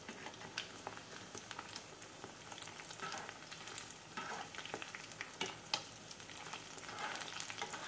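Fish frying in a little oil in a pan, a soft steady sizzle with intermittent crackles and scraping stirs, close and fairly quiet with no talking.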